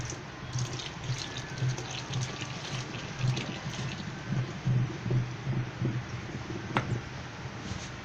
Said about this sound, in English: the remaining caustic solution, we'll pour it inside and we'll stir